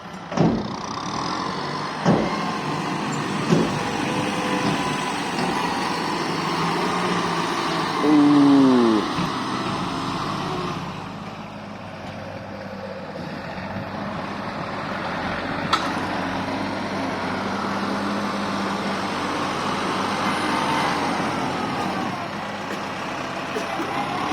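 An MU 5702 tractor engine runs steadily in a low, continuous rumble close by, with a few clanks and knocks over it, while people talk nearby.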